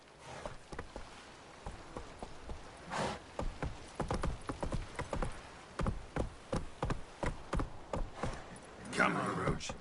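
In The Witcher 3 video game, the horse Roach gallops with a rapid, rhythmic run of hoofbeats through most of the stretch, mixed with a man's spoken lines and a brief snort or whinny.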